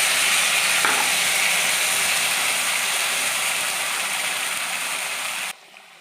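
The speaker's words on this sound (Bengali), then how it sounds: "ওই তেলেই আমি কালো জিরা ফোড়ন দিলাম। এরপরে বেটে রাখা পেস্ট আমি দিয়ে দিলাম।" Nigella seeds and a ground spice paste frying in hot oil in a pan, with a steady, fairly loud broadband sizzle that holds evenly for several seconds before dropping off sharply near the end.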